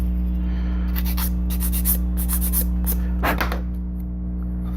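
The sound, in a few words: sanding an edge with sanding stick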